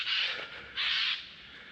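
Two harsh, raspy screeches from a Eurasian jay giving its alarm call in a mountain forest in the Albères, each about half a second, moderately distant with no talk.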